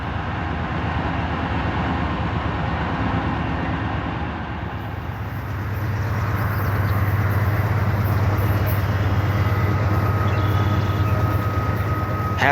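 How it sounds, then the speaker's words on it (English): A CSX freight train of 149 cars led by three locomotives crawls slowly up a steep hill, its engines giving a steady, loud, low rumble that grows heavier partway through, with no voices. "the 3 units are struggling to keep the train moving at not more than a crawl"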